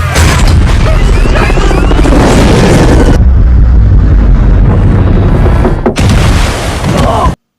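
A cannon fires at a helicopter in an action film, with loud, dense booming blasts and crashing debris filling the scene, a short pause, then another heavy burst before cutting to silence.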